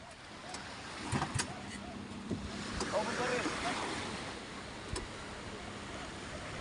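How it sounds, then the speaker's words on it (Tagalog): A small fishing boat's engine runs again after being fixed, a low steady drone out on the water under wind buffeting and sea noise, with people talking intermittently over it. "ay gumana ang makina."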